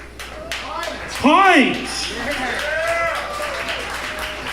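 An audience at a comedy club, The Laughs at The Ritz in Detroit, applauds comedian Bruce Pych, a patter of claps running under a loud announcer's voice.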